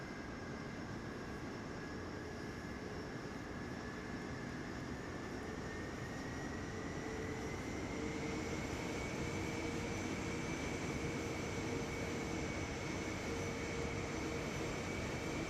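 SR-71 jet taxiing in Microsoft Flight Simulator 2024, a steady loud engine roar and whine with slowly rising tones, continuous and alone.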